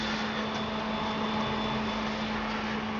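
A cooling fan inside a homemade car stereo boombox whirs steadily at close range, running on 12-volt power with a constant hum and a broad airy rush, with no talking over it.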